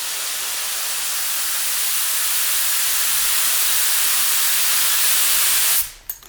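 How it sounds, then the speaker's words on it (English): A professional paint spray gun with its fan closed emits a steady, loud hiss of atomized paint that holds evenly for about six seconds before cutting off abruptly, leaving a short clatter. "can you see how precise it sprays compared to the cheap spray gun?"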